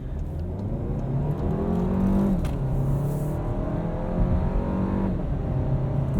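A 2017 VW Golf SportWagen 1.8T S 4MOTION accelerates out of a corner, its mid-pitched engine droning steadily and swelling slightly from inside the cabin, with tire and road noise underneath and no voices.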